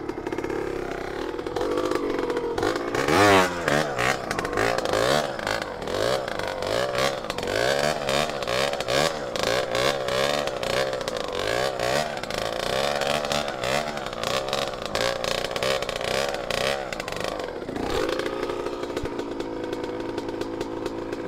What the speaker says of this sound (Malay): Nyerit lah motor ni.